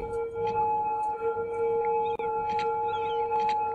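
Ambulance sirens in the city-building game Cities: Skylines ring out as steady, sustained tones that overlap and persist at moderate volume, with faint chirps and traffic hum in the background.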